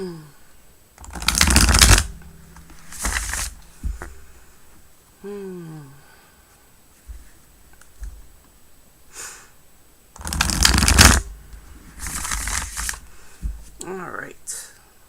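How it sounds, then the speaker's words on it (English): A deck of soft tarot cards being shuffled by hand, several loud riffling bursts close to the mic separated by quieter gaps, with someone talking softly in between. "I love shuffling this deck."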